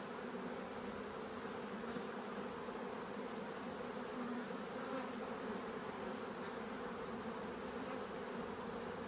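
Honeybees buzz steadily at an open hive during a split to raise queens, a dense, continuous drone from many insects close by.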